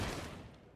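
A short, muffled burst of gunfire from the video game Fahrenheit: Indigo Prophecy, fairly faint and fading out within a second.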